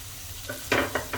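Turnip pieces cooking in a pan with chopped green garlic and tomato get mixed. There are three short, quiet scraping strokes over a faint low hum.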